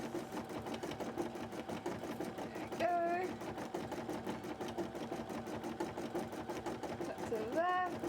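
A sewing machine chugs in a fast, even rhythm throughout while stitching a cosplay piece, a close mechanical rattle that runs continuously with a couple of brief squeaky tones over it.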